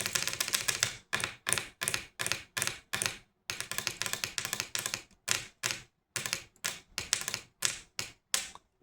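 Rapid clattering keystrokes from long, extremely curved acrylic nails tapping a keyboard, close and crisp, in bursts of quick taps separated by short pauses, with no voices.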